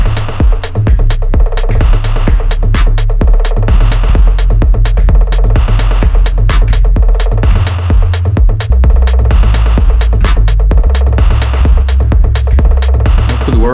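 A loud, driving minimal techno beat from an 808 drum machine, built on booming kick and bass pulses with crisp ticking hi-hats, steady and relentless throughout.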